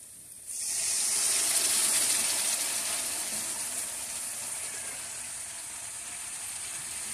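A splash of water hits frying ground spices in a pan for a hilsa fish curry, setting off a sudden loud hiss and sizzle that bursts up and then settles into a steady steamy crackle.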